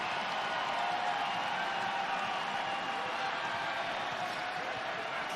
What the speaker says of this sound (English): the crowd responds accordingly